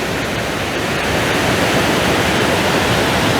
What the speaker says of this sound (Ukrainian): А як називається цей водоспад? Не, не... А, пробій. Водоспад пробій.